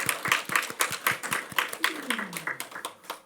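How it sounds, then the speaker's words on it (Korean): A church congregation claps during a Sunday sermon, sounding as distinct, rhythmic claps of moderate loudness, with a voice and a rising tone partway through. "우리 박수 한번 칩시다."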